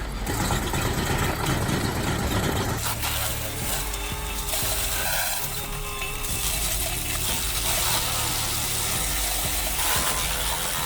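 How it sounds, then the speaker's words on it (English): A forage mixer and blower machine shredding hay and silage bales runs with a loud, continuous engine roar and dense mechanical noise that holds steady throughout without pause. "The forage mixer and blower, built to handle massive hay and silage bales, it shreds and mixes with razor precision"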